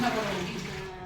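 Water runs steadily from a tap into a bath, with hot water being mixed in: a constant, close rushing wash across the whole short moment, with a faint voice tone underneath.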